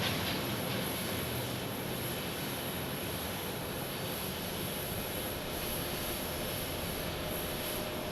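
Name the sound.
United Airlines Boeing 737 landing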